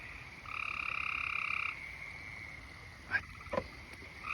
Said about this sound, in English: And then we have spring peepers peeping.